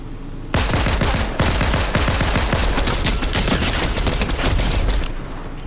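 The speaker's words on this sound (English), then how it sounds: "Somebody's shooting at me over here." Sustained automatic gunfire in the video game Fortnite, a loud, close barrage of rapid shots starting abruptly and running almost continuously for several seconds before cutting off, with no voices.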